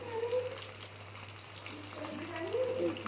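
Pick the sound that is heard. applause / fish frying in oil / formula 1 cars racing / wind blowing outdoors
fish frying in oil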